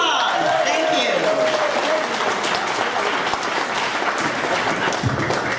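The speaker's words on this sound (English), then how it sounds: "Give him a big round of applause" Steady, loud applause from an audience at a Johnny Cash tribute show in a classic car museum, filling the whole stretch with dense clapping and some crowd voices and cheers mixed in.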